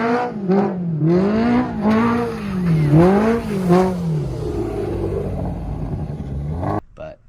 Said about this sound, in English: I do have an RPM exhaust on this